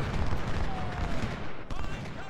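Artillery guns firing in a video game: loud, rumbling booms and dense concussive blasts fill the whole stretch, with one sharp report near the end.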